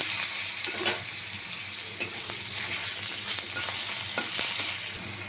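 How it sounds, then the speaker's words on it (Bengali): Potatoes frying in oil with a steady, close sizzle, broken by occasional scraping stirs; no voices. "এবার আলুটাকে আমি হালকা করে একটু ভেজে নেব"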